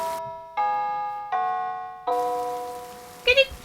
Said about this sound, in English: The church clock above them strikes the first quarter of the hour